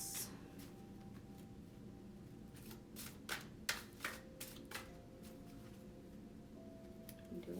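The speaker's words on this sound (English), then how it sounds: "And do one more shuffle and then do my other deck." A deck of affirmation cards being shuffled in a quiet ASMR setting: soft, close papery riffles and a cluster of crisp flicks and taps in the middle, with a faint low hum beneath.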